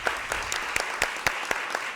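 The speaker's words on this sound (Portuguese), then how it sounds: "eu queria pedir a todos uma salva de palmas" Audience at a law panel applauding in tribute to a professor, a continuous smattering of claps with a few sharper, closer hand claps standing out at a regular pace.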